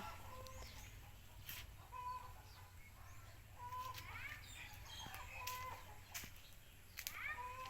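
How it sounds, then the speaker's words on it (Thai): A rooster crows several times against steady rain and birdsong, its calls moderately distant, with a low hum underneath. "เสียงไก่ขัน"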